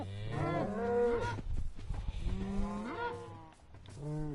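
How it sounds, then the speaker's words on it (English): Cows mooing in Minecraft Bedrock Edition, three loud, drawn-out lowing calls close by, separated by short pauses, with no talking over them. "Cows have definitely gotten noisier with the new update."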